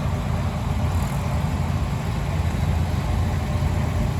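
A restored 1954 Farmall C tractor runs at a steady idle at a classic tractor show, a constant low, rough engine chug filling the scene without pause.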